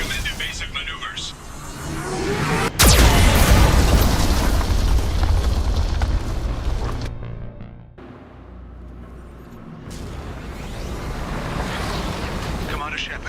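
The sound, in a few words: Geth cannon fire explosions in Mass Effect 2 video game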